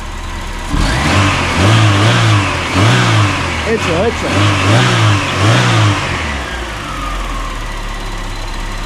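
Seat Ibiza SXI petrol engine revved hard toward 7000–8000 rpm, rising and falling in repeated close, loud surges over several seconds, with voices speaking briefly over it before it settles back to idle.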